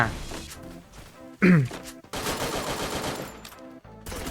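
Gunfire from the battle royale game Free Fire: a few sharp shots and bursts ring out close and loud over game music and effects, with one heavy thump near the middle.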